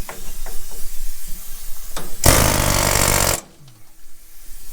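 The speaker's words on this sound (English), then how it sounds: "Now we got to peel it back with this air hammer." A pneumatic air hammer peels riveted mounting plates off a 4WD Kodiak truck camper build, a loud, steady rattling burst lasting about a second, set between quieter workshop sounds.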